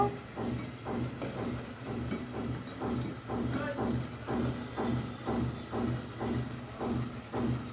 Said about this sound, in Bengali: এখন আমি সজনেগুলোকে অল্প অল্প করে দিয়ে দেব। এটাকেও কিছু সময় কষিয়ে নেব।